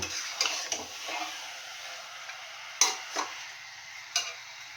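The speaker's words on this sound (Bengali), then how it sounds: "দেখো মশলাটা দিয়ে ভালো করে আমি এখন চিকেনটাকে কষিয়ে নেব।" Chicken sautéed with spices in a pan: a soft ongoing sizzle broken by several scraping stirs and light utensil taps against the pan, close and quiet, with no voices.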